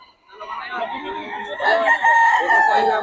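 Boston and Roundhead gamefowl roosters at a poultry market in Bocaue crowing close and loud, one long drawn-out crow rising into a second strained call, with faint voices nearby.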